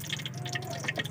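Chicken legs are dropped into a container of water, producing a quick series of close, wet plops and drips over about a second, with no talking.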